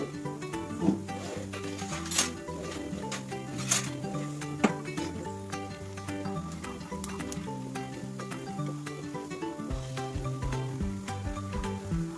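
Steady, dense sizzling of tempering seeds and cumin in heated oil for a potato fry, continuous and close with crackling pops throughout.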